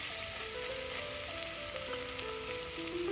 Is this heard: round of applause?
no